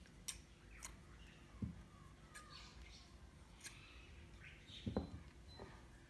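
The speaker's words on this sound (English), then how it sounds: "and cut the yarn." Scissors snipping crochet yarn, with a couple of brief crisp cuts and small clicks spread apart, close and quiet against a faint background.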